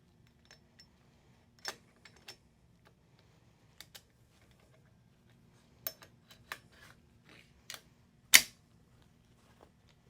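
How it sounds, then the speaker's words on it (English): Metallic clicks and clacks as an AR rifle's charging handle and bolt carrier group are slid back into the upper receiver, sparse close taps with one sharp louder snap near the end, otherwise quiet. "So you can go ahead and reinsert your charging handle and your bolt carrier group."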